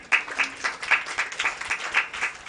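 A church audience claps in a loose, rhythmic pattern of distinct hand claps, close and fairly sparse rather than a dense ovation.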